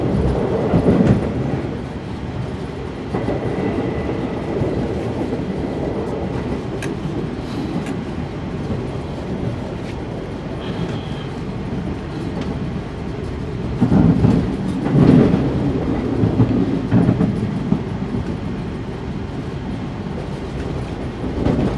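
Steady rumbling and rattling from inside a moving economy-class carriage of the Majapahit train, rear car, with clattering wheels and occasional squeaks, continuous and fairly loud, without speech.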